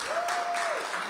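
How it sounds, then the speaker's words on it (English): Applause from a crowd at a DC government union agreement signing with the mayor, dense steady clapping over a short stretch with a faint tone running under it. "You got a lot of applause there, Lindsay."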